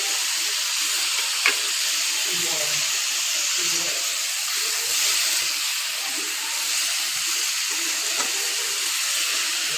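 Mushroom masala with cashews cooks in a pan with a continuous hiss and sizzle and a couple of sharp pops. Someone speaks quietly now and then under the steady frying.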